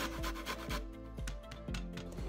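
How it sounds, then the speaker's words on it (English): Lemon rind being grated on a grater, a run of quick, close scraping rasps in a steady back-and-forth rhythm, some strokes spaced out over a low background tone. "Then grate the rind of 3 lemons."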